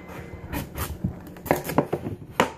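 A knife cuts through butternut squash on a board in a quick run of sharp chops and thuds, some single and some clustered, close and clear with no talk over them.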